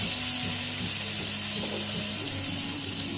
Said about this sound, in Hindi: इन्हें लो हीट पर थोड़ी देर के लिए फ्राई कीजिए।